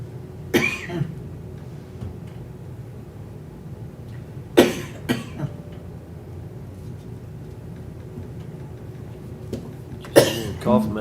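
Coughs break out during a county commission meeting, three short separate bursts spaced several seconds apart over quiet room tone.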